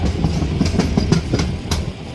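A passenger train rolls through Gir forest in Gujarat, its wheels keeping up a steady clickety-clack with regular rail-joint beats over a continuous low rumble.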